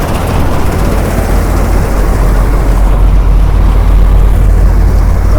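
Loud, steady engine drone of a tractor working during a soybean harvest, close by and unbroken with heavy low rumble and no talk.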